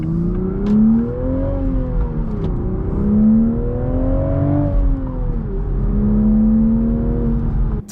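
A manual Toyota Supra's powerful engine revs repeatedly, its pitch climbing and dropping in smooth waves with rev-matched blips between shifts, loud and close with no talk.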